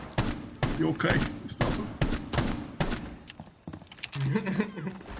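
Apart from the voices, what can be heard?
gunshot in Rainbow Six Siege video game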